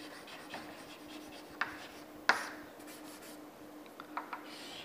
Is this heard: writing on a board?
yes